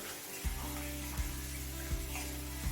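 Chopped garlic sizzles in a pan over a medium flame, a soft steady fry with low thumps recurring every second or so as it is stirred.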